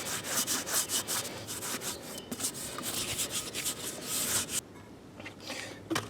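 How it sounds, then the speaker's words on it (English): A car wheel being scrubbed and scuffed with an abrasive pad to clean off brake dust before spray painting, giving rapid rhythmic rasping strokes that stop briefly near the end, then resume. "So we're cleaning and scuffing at the same time."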